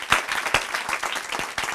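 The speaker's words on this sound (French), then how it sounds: "sa femme, Karine Damblanc, que je voudrais que vous applaudissiez au moins pour elle." A small theatre audience claps in a short burst, with individual hand claps audible close by.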